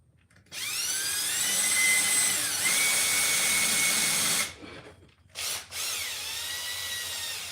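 A power drill drives a screw into a pine board, whirring steadily for about four seconds with rising and falling pitch, then a short pause and a brief burst before a lower, steady run resumes.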